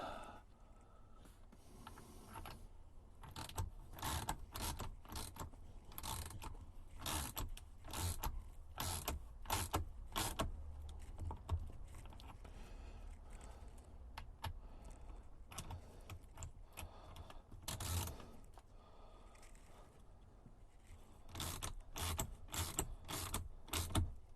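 Bolts being tightened on BMS boards fitted to Winston LiFePO4 battery cells, a long run of rapid close metallic clicks and ratcheting taps with short pauses, no talking.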